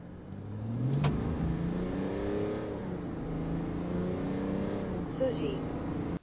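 A Duramax LM2 diesel truck with a resonator delete and hose kit accelerates hard, its engine note climbing through a couple of gear changes, steady and moderately close.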